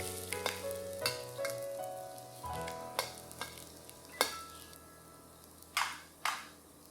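Ingredients for a Chinese shredded potato dish, tudou si, including dried chilies, stir-fried in a pan: a spatula scrapes and clatters against the metal over a continuous sizzle, with several sharp louder strikes, close up and without speech.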